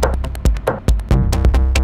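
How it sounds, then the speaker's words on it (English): Two bass parts from a live modular synthesizer rig, a deep droning low end under punchy rhythmic hits and fast repeated notes, loud and dense. "Those two bass sounds you hear are now coming from the STS."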